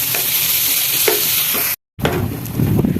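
Onions sauté in a pan with a loud, steady sizzle and the scrape of stirring. The sound cuts out briefly, then comes back with heavier stirring noise.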